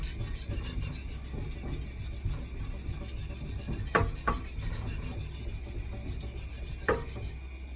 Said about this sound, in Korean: 야밤에 칼 가고 있어요